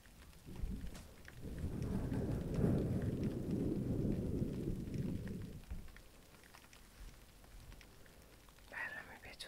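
Rain pattering on an open umbrella under a thunderstorm, a dense low rumble building and holding for several seconds before fading to lighter patter, with a faint voice near the end.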